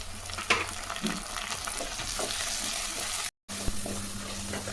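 Onions, tomato and curry leaves sizzle steadily in a pan for roadside-style salna, with scraping stirs now and then and a brief gap midway, close and fairly loud with no talking.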